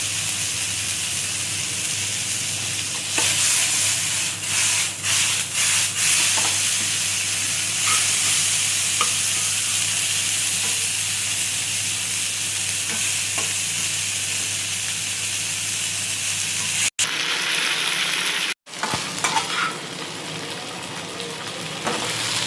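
Oil sizzles steadily as eggplant fries in a pan, with occasional scraping stirs and clatters against the cookware.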